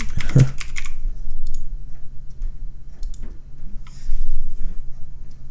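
A computer keyboard being typed on as a password is entered, close and clear with quick bursts of clicking keys separated by short pauses.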